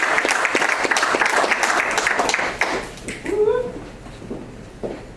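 Audience at a poetry reading clapping and snapping for a reader, a dense burst of applause for about three seconds that tapers off, with a brief voice and scattered claps afterward.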